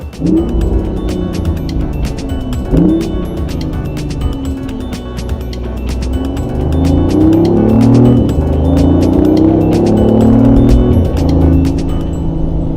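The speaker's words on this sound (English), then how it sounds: "put it in sport mode and see how the car performs under heavy acceleration and braking and cornering" A 2017 BMW i8 Protonic Red Edition with four-wheel drive accelerates hard in sport mode, its engine note climbing and sweeping up through gears in a loud, continuous roar, close and steady with no talking.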